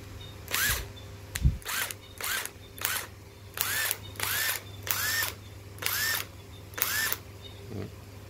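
A 12V cordless drill screwdriver whirs in about nine short bursts, each spin-up rising in pitch and stopping, close and fairly loud against a low background hum with no speech.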